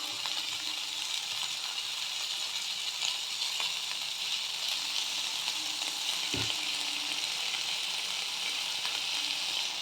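Chopped tomatoes sizzle and fry steadily in a hot pan for a fenugreek greens dish, a constant close hiss with one brief stir knock partway through.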